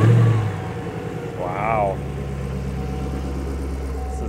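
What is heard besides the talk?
car engine starting and idling, flood-damaged automatic car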